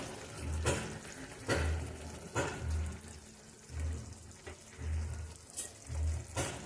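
Fish and slit green chillies sizzling in a pan for a Bengali gang mourola jhal, a soft steady fry broken by repeated stirring scrapes and low thumps at roughly one-second intervals.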